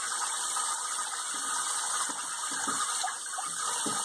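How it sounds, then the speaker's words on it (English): Bath water sloshes and splashes in short irregular bursts as a baby plays in the tub, over a steady running-water hiss from the tap. "You're splashing the water."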